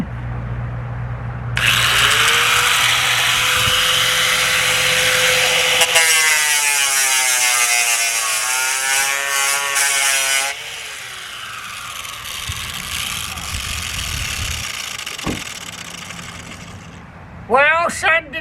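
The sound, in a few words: power sander with sanding disc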